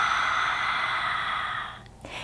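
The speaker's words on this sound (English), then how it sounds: "Ujjayi breath is what some people call ocean breath" A single long Ujjayi ocean breath drawn through a constricted throat, a steady airy hiss like fogging a mirror that fades near the end, close and alone.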